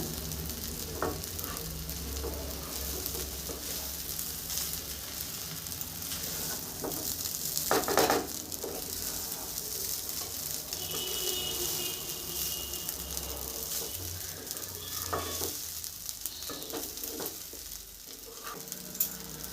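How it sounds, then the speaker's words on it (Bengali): Cooked rice and fried vegetables get stirred gently in a nonstick wok, giving a soft, continuous sizzle with occasional scraping strokes and light clatters. "আস্তে আস্তে করে নাড়বে, নাহলে চাল ভেঙে যাবে।"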